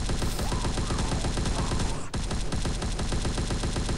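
Rapid continuous gunfire fills a Gods of Boom x The Walking Dead video game match, a dense loud automatic fusillade with one brief dip partway through.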